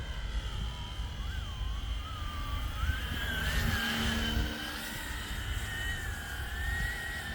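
Flywing Hill HX50 RC model helicopter running, a steady high tail-rotor whine wavering in pitch over a constant rotor drone, close and continuous throughout.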